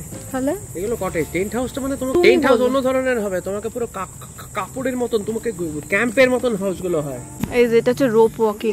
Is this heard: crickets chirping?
yes